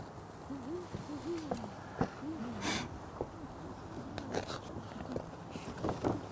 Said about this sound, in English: is the great horned owl.